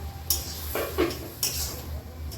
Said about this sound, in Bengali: আমি ঢাকনা চাপা দিয়ে দিচ্ছি